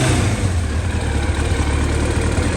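A Yamaha R1 motorcycle (5JJ model) under repair idles steadily while warming up, a continuous close low engine rumble with a slight uneven pulse and no voices.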